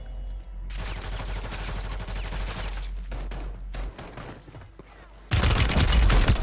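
Rapid video game gunfire aimed at the player, dense and continuous bursts of shots at close range, turning louder and harsher toward the end, with no talk over it.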